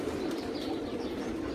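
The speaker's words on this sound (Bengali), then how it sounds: "কবুতর এইখানে আরও অনেক আছে" Pigeons cooing softly in a low, continuous murmur at a loft during a bathing session, faint and steady with no voices over it.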